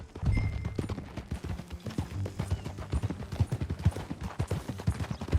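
Horse hooves clip-clop at a steady riding pace in Red Dead Redemption 2, close and clear with an uneven trotting rhythm, under light ambient game sound.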